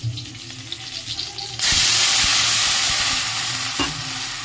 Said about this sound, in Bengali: আর এখানে এই যে শাকটা ভাজছি